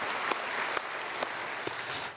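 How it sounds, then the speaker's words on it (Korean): Church congregation applauding children during a Sunday service, a steady wash of many hands clapping, fairly distant and even, with a few louder individual claps standing out. "우리 어린아이들을 위해서도 박수 많이 보내주시기 바랍니다"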